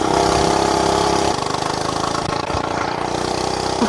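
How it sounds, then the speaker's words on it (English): Hoverhearts gas mini bike engine running steadily nearby, a loud continuous buzzing drone that drops slightly in pitch partway through and keeps going alone. "This is my first ever gas bike, as you can probably tell since I'm so surprised."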